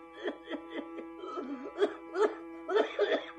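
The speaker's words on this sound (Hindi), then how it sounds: "ऐसी खांसी बढ़ती है" A series of short, strained coughs in quick succession, close and fairly soft, with a wheezy, voiced quality.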